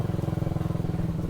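A motorcycle engine chugs close by on a rough hill track near Dedugala, Palampitiya, Sri Lanka, in a steady low throbbing idle-like putter.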